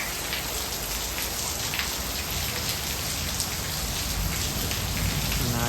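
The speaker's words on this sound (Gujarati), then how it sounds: "વરસાદ શરૂ થઈ ગયો છે" Unseasonal rain with wind pouring down during a storm over farmland, a dense continuous hiss of drops striking surfaces nearby, steady and loud throughout with no voices.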